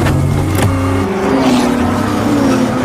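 A Ford race car revs hard during the Daytona race, its engine holding a steady, loud, high-rpm drone with harmonic bands that shift in pitch as it accelerates, recorded close and continuous with no talk.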